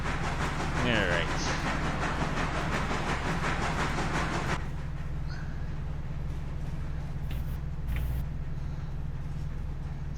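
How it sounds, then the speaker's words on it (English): A long freight train in the railroad game Railroader rolls along with a steady clattering rumble, loud for the first few seconds and then quieter and more distant, with faint squeaks on top. "It's a long train."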